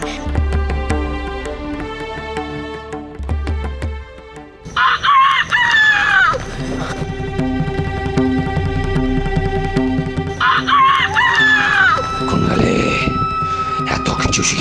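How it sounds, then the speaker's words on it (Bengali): A rooster crows loudly twice in a jungle, long strained calls spaced several seconds apart, over a steady bed of music. "অসময় মোরগ ডাকছে"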